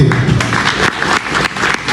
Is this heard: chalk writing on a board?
no